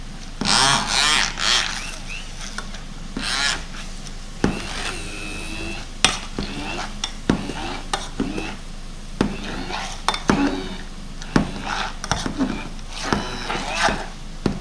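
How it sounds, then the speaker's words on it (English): Potatoes being mashed with butter in a pot, a string of irregular clanks and soft squelching knocks from the masher against the pan, with occasional voices between strikes. "Mashed potato always happens to be fun when you're mashing it."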